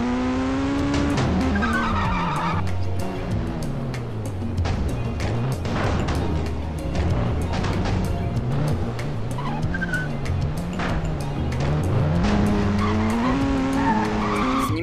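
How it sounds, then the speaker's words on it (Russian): Car engine revving and tires skidding in the video game Los Angeles Crimes, a loud, continuous drone with wavering pitch and repeated squeals and thuds throughout. "Теперь проверим все это дело машиной."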